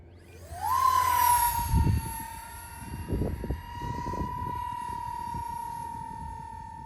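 A Stryker FPV radio-controlled plane flies overhead, its thin steady electric motor whine holding for several seconds while low wind buffets and thumps come and go underneath.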